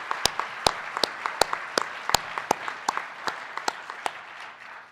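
At a 2011 all-hands town hall, an audience applauds an honoree with a steady bed of clapping, punctuated by sharp, loud claps from a few hands close by, tapering slightly toward the end.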